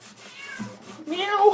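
A cat meows loudly at a second-floor window, a drawn-out rising yowl up close, following a brief quieter cry.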